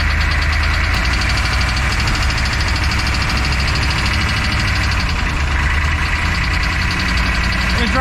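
A damaged, blown-up Humvee engine runs loud and close with a steady rough idle and a knocking rumble that holds for the whole stretch.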